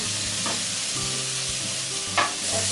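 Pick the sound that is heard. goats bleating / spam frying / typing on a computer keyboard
spam frying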